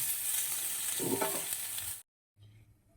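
Cauliflower florets frying in oil with turmeric in a kadai, a steady loud sizzle with stirring scrapes for about two seconds, then a brief silence and a quieter sizzle resuming.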